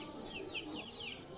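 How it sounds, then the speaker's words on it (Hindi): A hen standing near her chicks clucks softly in a quick series of short calls, close and fairly quiet against low background noise. "ये देखें ये मुर्गी साथ ही खड़ी है"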